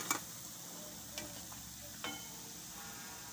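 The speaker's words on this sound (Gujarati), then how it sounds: "તો આપણે આ રીતે બધાય તળી લેવું." Rolled roti patra fry in hot oil in a pan with a low, steady sizzle, broken by a few sharp clicks of a utensil against the pan.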